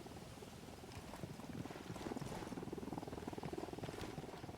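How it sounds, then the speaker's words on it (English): A helicopter approaches in the co-op shooter Ghost Recon Wildlands, its steady rotor throb and engine rumble building in loudness over a dense game soundscape. "Helicopter coming in as well, by the sound of things."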